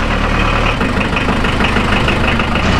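A Unimog 411 engine runs steadily at close range, a loud, even low rumble with a faint knocking pulse and a slight shift in tone partway through, with no voices.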